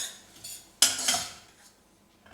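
A spoon strikes and scrapes a pan of cabbage Manchurian with soya sauce, one loud metallic clatter followed by quieter stirring and a faint tap at the end.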